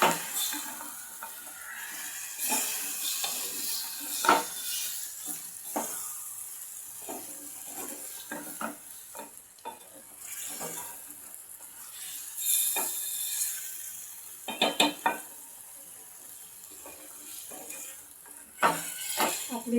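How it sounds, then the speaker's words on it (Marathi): Masala for a stuffed bitter gourd curry cooking in oil with a little water, giving soft sizzling and bubbling broken by intermittent stirring and scraping clatter from the pan, quiet and close. "आपण फक्त याला 5 मिनिटं त्याचं तेल सेपरेट होईपर्यंत आपण याला शिजवून घेणार आहोत मसाल्याला"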